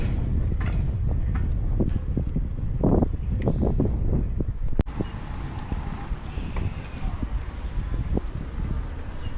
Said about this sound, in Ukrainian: тут на відкритому просторі біля гарони вітер гуляє, баки перевертає